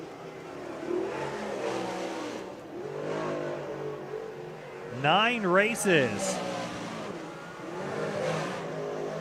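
Napa Modified race cars at Georgetown Speedway roar as the field accelerates on the green flag, a loud, continuous engine drone with a sharp rising rev in the middle, under steady commentator talk.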